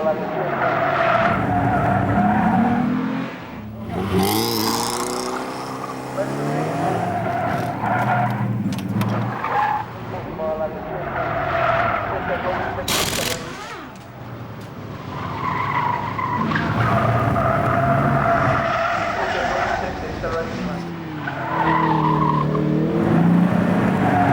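Tires squeal and skid repeatedly on a race track as a race car engine revs and howls, with a voice talking over the loud driving.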